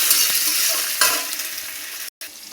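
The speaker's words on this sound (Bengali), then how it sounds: "এবার আলু কটা তেলে করে দেবো, দিয়ে একটু ভেজে ভেজে নেব।" Potato pieces fry in oil with dried red chilies and cumin in a pan, a steady bright sizzle broken by a couple of stirring scrapes and a brief cut-out near the end.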